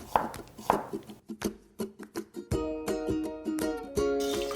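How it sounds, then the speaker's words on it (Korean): Knife slicing celery and garlic on a cutting board, a rapid series of crisp taps and crunches, uneven at first then quicker and denser, close and clear with no talking. "샐러리는 이렇게 어슷어슷하게 썰어 주시고요"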